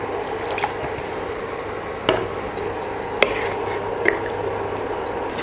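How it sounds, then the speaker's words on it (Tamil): Water trickles and drips into a pan of sauce for American chop suey noodles, with a few distinct splashy drips standing out over a steady low kitchen hum. "இன்னும் கூட கொஞ்சம் தண்ணி ஆட் பண்ணிக்கலாம்"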